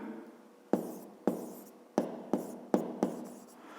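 Pen or chalk strokes tap and scratch out a math solution, about six short sharp marks in an uneven rhythm, close and alone.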